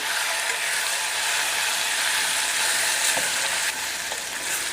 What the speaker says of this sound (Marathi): गरम मसाला आणि कांदा लसूण मसाला हे सगळं व्यवस्थित मिक्स करून घेते.